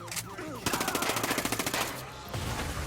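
A close, loud burst of rapid automatic gunfire from Tom Clancy's Ghost Recon Breakpoint rattles for about a second in a tight rhythm, framed by shorter single shots and game effects.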